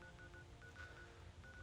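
Telephone dialing tones from Fallout 4, a series of short beeping DTMF tones in an irregular sequence over a faint low background hum, no voices.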